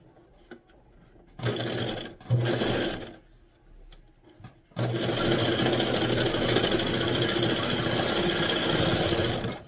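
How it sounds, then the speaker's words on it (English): Serger stitching fabric for a reusable shopping bag: two short bursts of steady mechanical whirring, then a long continuous run, loud and close. "we're going to run it through the serger"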